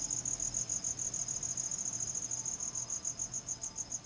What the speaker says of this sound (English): Oh, these damn crickets.